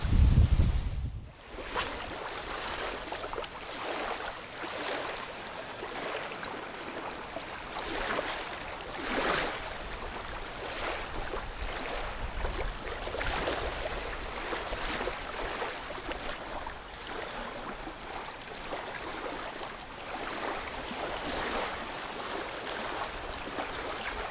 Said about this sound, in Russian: Ветер такой сильный поднялся.